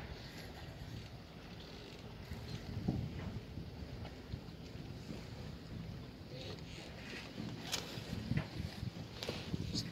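A boat driven by an outboard motor with hydraulic steering runs steadily, its engine drone blended with heavy wind buffeting the microphone and some water noise, continuous throughout with no voices.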